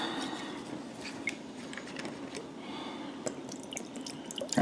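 Rice vinegar trickles and splashes into a bowl with a soft, continuous liquid patter and a few drips, fairly close and steady, with no talking.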